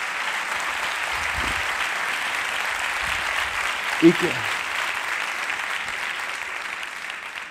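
An audience at a neuroscience talk applauds continuously, a broad, even patter of many hands, with a brief spoken interjection from the speaker partway through.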